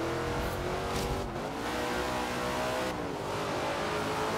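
Dodge Dart engine in Forza Horizon 4, revving hard and shifting with brief dips between gears, loud and close with a hint of tire squeal and no talk.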